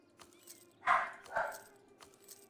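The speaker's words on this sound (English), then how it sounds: "Can you hear the dog sing?" A dog howls in the background indoors, two drawn-out, sung-sounding howls, moderately loud against a quiet room.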